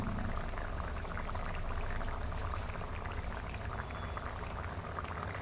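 Boiled potatoes simmer in a small amount of water for an egg curry, a soft, continuous bubbling that stays fairly quiet and even throughout.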